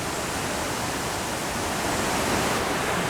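A river flows along the bottom of a ravine, the Rivière des Husses, where calcite is found. Its steady, loud rush of water fills the whole clip with even, continuous noise and no voices.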